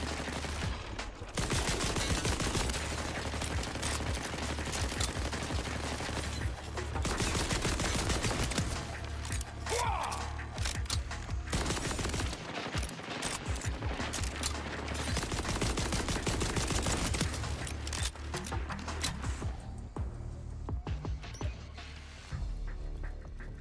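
Turrets in Borderlands 4 fire continuously in loud, rapid bursts, a dense barrage of gunfire and impacts that runs almost unbroken throughout.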